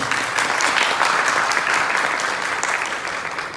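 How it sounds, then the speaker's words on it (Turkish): Wedding guests applaud the bride at a civil ceremony, a steady full wash of many hands clapping throughout, evenly sustained and moderately close. "Gelin hanıma alkış lütfen."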